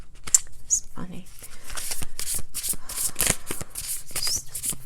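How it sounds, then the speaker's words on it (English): Tarot cards being shuffled by hand, a rapid series of crisp riffling flicks and soft papery slaps close up, with quiet speech in between. "you can hear me doing additional shuffling on camera"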